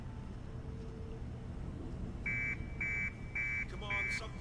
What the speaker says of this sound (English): So we can do a forklift alarm.